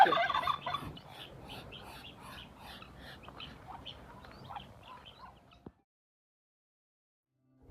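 Turkeys gobble repeatedly in rapid rattling bursts in a farmyard in Kolwezi, DR Congo, with ducks, chickens, roosters and guinea fowl squawking around them, fairly close, before everything falls quiet near the end.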